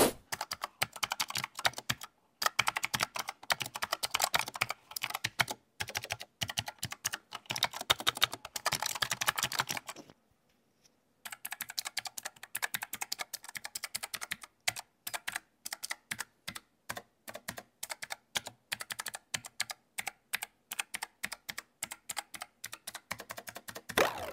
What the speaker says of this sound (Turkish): Klavyenin şimdi sizlere bir ses performansını dinletmek istiyorum.